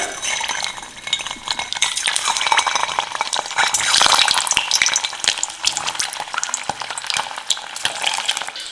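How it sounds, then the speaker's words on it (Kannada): Eggs frying in hot oil for a garlic egg fry, a steady dense crackle and sizzle with scattered sharp pops and utensil clinks, loud and close with no talking. "ಈಗ ಈ ಕಾದಿರೋ ಎಣ್ಣೆಯಲ್ಲಿ ಈ ಮೊಟ್ಟೆನ ಹಾಕೊಳ್ಳೋಣ"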